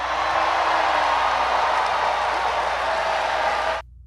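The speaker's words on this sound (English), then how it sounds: "there's everybody cheering" A large audience cheers and applauds together in a dense, loud, continuous roar. It holds at a steady level, then cuts off abruptly near the end.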